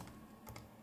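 A few quick keystrokes on a computer keyboard during Python coding, two clicks standing out near the middle, close and fairly quiet over faint room noise.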